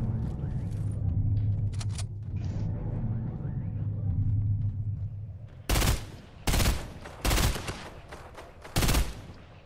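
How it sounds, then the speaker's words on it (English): Video game gunfire: after a stretch of low rumbling background, four sharp, loud bursts of rapid shooting crack out close by in quick succession. "Somebody else shooting at them?"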